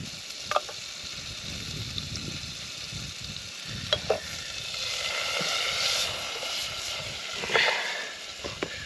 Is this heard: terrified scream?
no